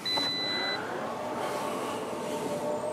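A Volvo C40 Recharge electric car's power tailgate closes on a foot-sensor command, giving a steady motorized whir with short electronic beeps near the start.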